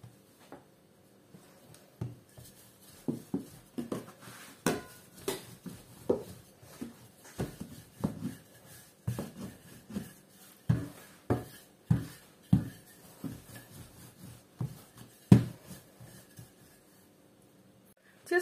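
A rolling pin works dough for a Tatar sweet pumpkin belesh, giving a series of soft, irregular thumps and rolls on a work surface, close and fairly quiet with pauses between strokes.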